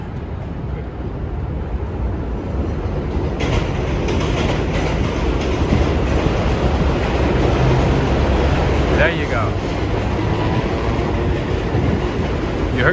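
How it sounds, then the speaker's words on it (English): A New York City subway train rumbles and clatters past close by in Astoria, Queens, steady and loud, with a brief squeal of wheels and a short spoken remark. "Does it sound like a train you want to be on?"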